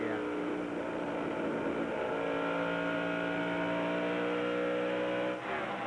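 A NASCAR stock car engine drones through a corner during the 1999 MBNA Platinum 400, a steady loud roar with shifting pitch as throttle is applied, mixed with crowd and broadcast ambience, and commentators' voices faintly present.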